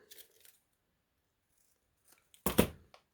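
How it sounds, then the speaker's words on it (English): Scissors cut a paper scrap for card making: a light snip near the start, then after a quiet gap one louder, close crunching cut. "I'm going to cut that."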